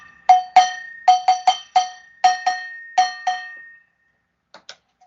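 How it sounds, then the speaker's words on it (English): A spoon strikes a metal pot in a quick irregular rhythm, about a dozen bright, ringing clanks with a sustained metallic tone, close and loud, then a couple of softer taps after a pause. "I just got my pot and my spoon, and it sounds like this."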